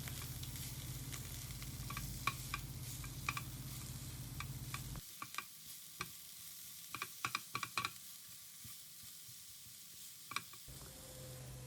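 Fish fillets seasoned with salt and black pepper sizzle softly in a stir-fry pan, a steady hiss broken by scattered ticks and light scraping from stirring, quiet and close.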